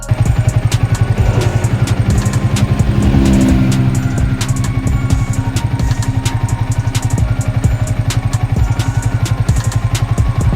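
A Yamaha Vixion motorcycle engine runs close and loud with a steady, rapid ticking knock throughout, and its revs swell briefly partway through.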